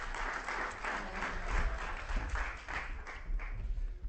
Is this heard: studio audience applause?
yes